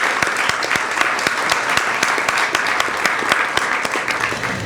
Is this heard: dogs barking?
no